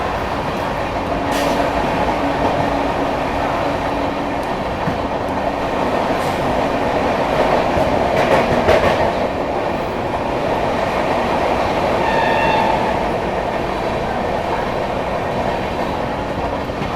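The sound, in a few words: Bihar Sampark Kranti Express train passing Tundla Junction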